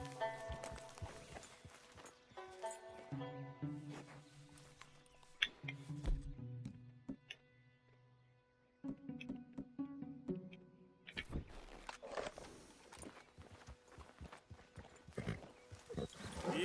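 A horse gallops in the video game Red Dead Redemption 2, its hooves drumming in quick rhythmic clip-clops over tonal game music, with a brief lull in the middle before the galloping picks up again.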